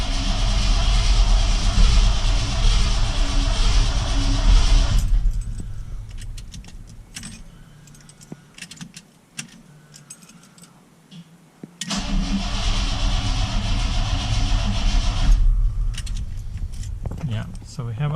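A 1990 Ford F-150 with ignition trouble runs with a loud, steady engine roar, cuts to near silence with scattered clicks and rattles, then starts and runs loudly again; speech is present.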